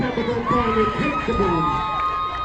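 Lively crowd at a primary school relay race festival cheering and shouting, with children's high voices whooping and calling out continuously across the clip at a steady, fairly loud level.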